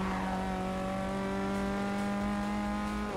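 Formula race car in Forza 6 holding a steady high-pitched engine whine with rich harmonics, loud and continuous, with a faint tire squeal mixed in.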